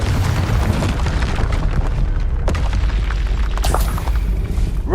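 Confringo blasting spell bursting in Hogwarts Legacy, a loud, sustained booming explosion with dense low rumble that fills the whole stretch, with a sharper crack partway through.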